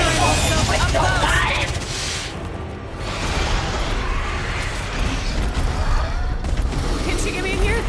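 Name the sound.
sniper rifle gunfire in a video game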